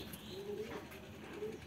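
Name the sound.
pigeon cooing during treatment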